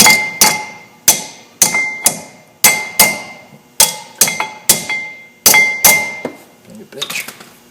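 Sharp metallic taps on brake pad hardware, a springy compressed clip being snapped onto a 2005 Chevy Avalanche brake assembly, about a dozen bright clinking hits in an uneven rhythm, each ringing briefly and close by.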